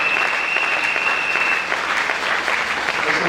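A church congregation applauds steadily throughout, a dense, continuous clapping from a crowd filling the room at an even level with no pauses.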